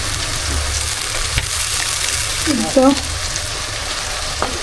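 Ginger dropped into a hot frying pan gives a steady, loud sizzle throughout, with a brief voice in the middle.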